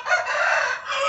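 A hen crows in one short, loud, close call that is strained and sustained, heard alone.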